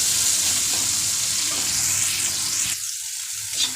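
Spices fry in hot oil in a pan with a loud, close, steady sizzle that drops slightly in the final second, with no talking.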